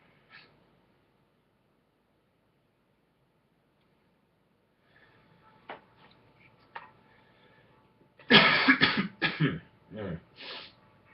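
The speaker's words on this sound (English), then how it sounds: "That smoker's cough." A smoker coughs in a short cluster of harsh, hacking bursts near the end, preceded by a few faint throat noises in an otherwise quiet room.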